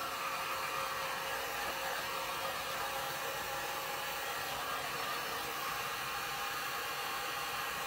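Hair dryer blowing steadily to dry gold paint on a decorative tray, a constant loud rushing hiss for the whole stretch with no talk.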